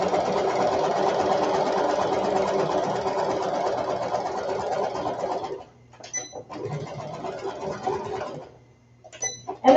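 A sewing machine runs a zigzag stitch along a fabric edge on baby ruffle bloomers, a steady loud mechanical chatter for about five seconds, then stopping with a few short stitching bursts and clicks afterward.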